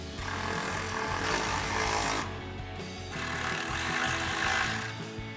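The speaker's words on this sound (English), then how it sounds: "grab our 4mm Allen socket on our ratchet and tighten these down" A ratchet fitted with a 4mm Allen socket drives bolts home on a RedRock TCX HD front bumper for a 2016-2023 Toyota Tacoma. It gives two long, loud, gritty buzzing runs with a short pause between, close up and without speech.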